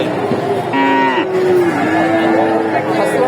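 Cattle low at the Bogura Dhaper cattle market, one close, drawn-out moo rising and falling over a bustling crowd murmur.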